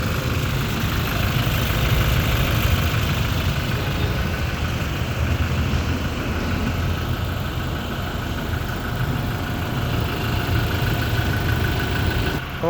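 Toyota Innova 2.8 diesel engine idling quietly and evenly, a steady low mechanical hum with a faint ticking texture that continues unchanged throughout with no talk over it.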